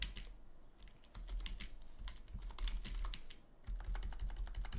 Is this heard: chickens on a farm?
no